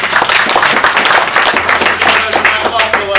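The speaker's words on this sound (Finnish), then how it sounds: "Kyllä hänelle voi yhdet aplodit siitäkin." Audience applause fills the whole stretch, a steady wash of many hands clapping at close range, with a voice faintly audible beneath it.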